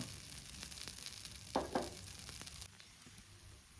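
Sorghum flatbread cooking in a pan with a little oil gives a soft, continuous sizzle, with a couple of brief louder crackles partway through, faint and close.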